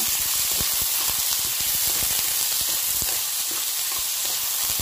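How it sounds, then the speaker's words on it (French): Onions frying in a pan for a lentil and eggplant gratin, a loud continuous hissing sizzle with dense crackling pops, close up and without voices. "Donc là, j'ajoute les oignons. Je vais les faire dorer."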